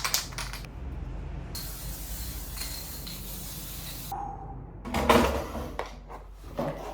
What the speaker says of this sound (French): je vais vernir la toile avec un spray cette fois.